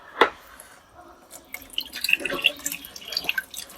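Hot water from a kitchen tap spatters and drips into a sink while pasta dinner is being cooked, a loose, irregular splashing that grows busier toward the end, heard close by at moderate volume.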